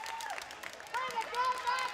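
Crowd applause and scattered cheering at a U-17 Ontario Storm versus Team Saskatchewan volleyball match after a diving save, rising midway and sustained under a commentator's voice.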